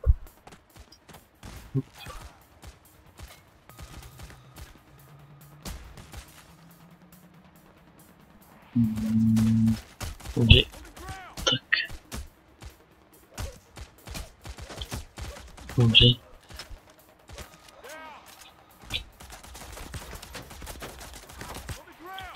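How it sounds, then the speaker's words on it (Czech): Gunfire in the heist shooter Payday: The Heist, with scattered sharp shots and short bursts spread across the clip, some loud and close, others fainter, over a busy game soundscape. "Kdo to po mně furt střílí?"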